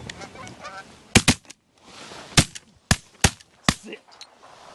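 Canada geese honk during a goose hunt in a snowstorm, several close calls amid a series of loud sharp bangs, likely shotgun blasts, with wind in the background.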